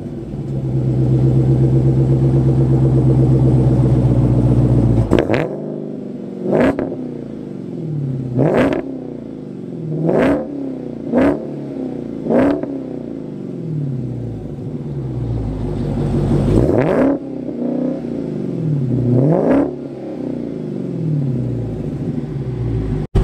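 A Dodge Demon in a quarter-mile drag race against a Tesla Model S P100D holds a loud, droning engine note, then revs up hard several times. The pitch sweeps repeatedly with sharp breaks between surges, and no voices are heard.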